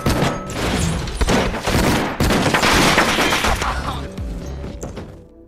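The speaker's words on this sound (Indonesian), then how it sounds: "hingga terjadi aksi tembak-tembakan" Loud, dense gunfire in an action film shootout rattles almost nonstop, bursts of shots overlapping in a chaotic exchange that tapers slightly at the end.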